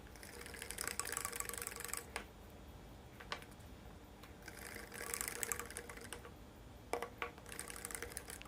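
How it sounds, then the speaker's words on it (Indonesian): A hand whisk beats pukis cake batter of flour and liquid ingredients in a bowl, giving bursts of rapid wet scraping and tapping that swell, pause and resume, fairly close with no voices. "Dan kita kocok hingga merata sampai bahan bubuknya dan bahan cairnya"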